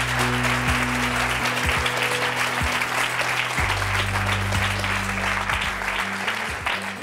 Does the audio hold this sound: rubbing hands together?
no